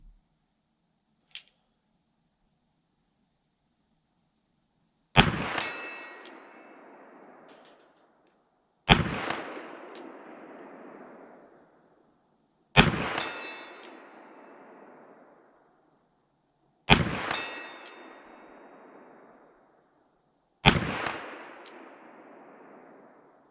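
A Ruger GP100 Match Champion .357 Magnum revolver fired single action at a 60-yard steel plate, five loud, well-spaced shots, each with a sharp crack and a long echoing decay, after a faint click.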